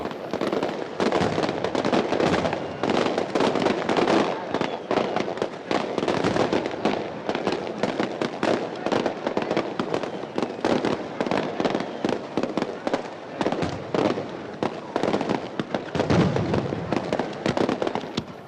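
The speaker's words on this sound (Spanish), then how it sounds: "La semana de los piratas empieza a cañonazos." Cannon shots fired to open Pirates Week in the Cayman Islands, a dense, continuous barrage of sharp loud bursts and crackling pops with no pause across the whole stretch.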